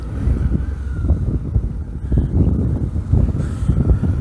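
Steady, heavy wind buffets an internal helmet mic feeding an LG V40 phone while a motorcycle rides on a cold, sunny day, a dense, close rumble with no letup.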